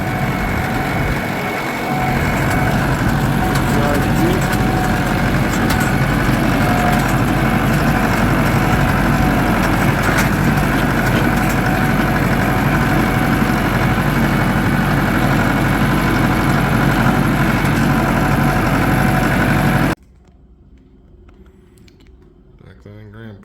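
Farm vehicle engine running steadily and loud while driving through a shallow water-filled low spot in a field in northern Wisconsin, a constant rumble with splashing texture that cuts off abruptly near the end, leaving quiet.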